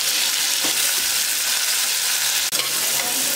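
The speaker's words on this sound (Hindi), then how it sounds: "प्याज में फ्राई हो रहा है, तो इसमें हम बारीक कटा हुआ टमाटर डाल देंगे" Onion and finely chopped tomato fry in a pan with a steady, close hiss. Faint stirring clinks and one sharp tap sound under the sizzle.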